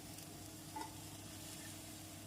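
Egg fried rice with pepper being stirred in a hot pan, a soft steady sizzle with a faint scrape of the spoon, quiet and close, with no voices.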